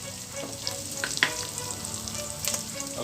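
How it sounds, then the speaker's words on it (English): Crushed garlic fries with cumin in hot oil for palak paneer, a continuous close sizzle with a few sharp crackles and spatula clicks, no voices. "I'm going to add crushed garlic."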